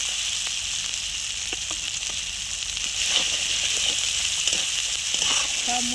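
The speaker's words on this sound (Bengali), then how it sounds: "পেঁয়াজটা একটু ভাজা ভাজা হয়ে গেছে, এবার আদাটা দিয়ে দিলাম" Onion and ginger paste sizzling steadily in a pan, a continuous bright frying hiss with occasional soft stirring clicks and spatters, close and fairly loud throughout.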